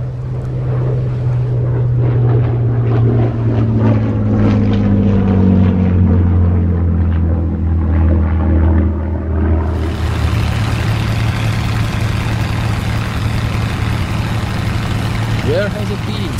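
Propeller airplane engine in the Men of War video game, a steady low drone that holds throughout and swells louder with a broad roar partway through, running under spoken dialogue.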